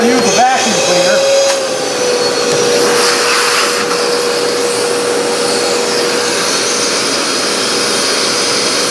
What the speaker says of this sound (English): just trying to use the vacuum cleaner